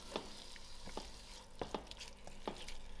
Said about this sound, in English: Almost 2 minutes has passed and my gram dhal has come to a fry.